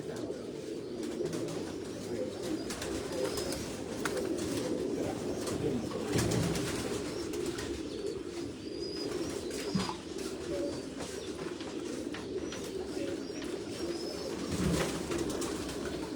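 Golden pigeons in a rooftop loft keep up a dense, continuous chorus of low coos, with scattered wing flutters and faint chirps, close and steady throughout.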